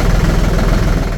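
A small farm tractor engine runs close and loud, a steady, dense chugging rumble with fast regular pulses and no speech.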